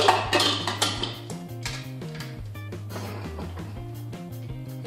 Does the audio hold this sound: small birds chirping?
no